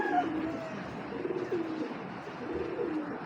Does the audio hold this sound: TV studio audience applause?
no